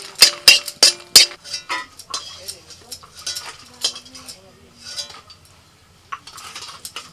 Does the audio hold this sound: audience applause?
no